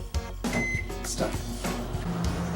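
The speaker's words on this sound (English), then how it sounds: "we'll put it in the microwave oven and cook it for about 12 minutes" A microwave oven starts up to cook potatoes, with a short beep and a steady hum under a low voice and kitchen clatter.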